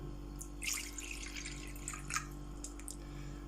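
Water pours into a large glass in a brief, faint trickle of splashing over a low steady hum.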